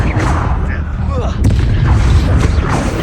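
A Confringo explosive spell bursts in Hogwarts Legacy amid loud continuous combat rumble, with booming blasts layered over one another, a sharp crack in the middle and voices audible in the mix.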